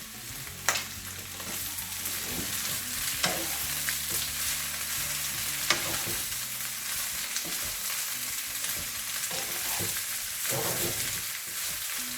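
Pepper steak sizzles steadily in garlic oil in a pan, with a continuous loud hiss and a few scattered clinks and stirring knocks throughout, with no talking.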